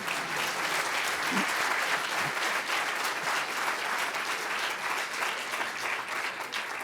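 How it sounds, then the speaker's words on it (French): Audience applause at the end of a talk on designing mobile navigation: dense, steady clapping from a crowd fills the whole stretch at an even, fairly loud level, with no voices over it. "Monsieur vous demande d'applaudir."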